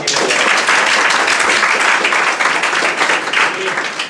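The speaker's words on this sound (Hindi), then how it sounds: "चलिए ताली भाई एक बार फिर से" Loud, close audience applause at a gathering honoring a man who supports poor students, a dense burst of many hands clapping that runs the full length, with some voices underneath.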